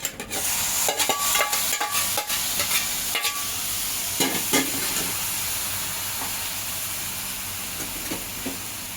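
Cooked pineapple pieces stirred into semolina sheera with sugar in a hot pan: a steady sizzle and hiss, broken by scraping clinks of the spoon against the pan.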